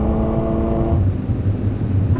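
A Toyota GR86 pulls hard in a drag race against a Toyota Supra, a loud, steady engine roar with rising pitch early that settles into a dense rumble, close and continuous with no talking.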